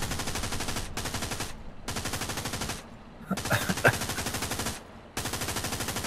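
Heavy machine-gun bursts from tanks in the World War II shooter Hell Let Loose hammer out in long rapid strings, broken by short gaps and a few sharper cracks. The fire is close and loud, with faint voices under it.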